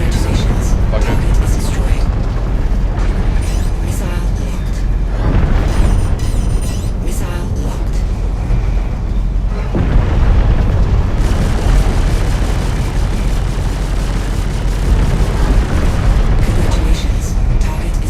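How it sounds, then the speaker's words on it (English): Heavy booming missile explosions in a video game, loud and rumbling one after another with a continuous roar, while a player speaks over them. "No, stop shooting me with missiles."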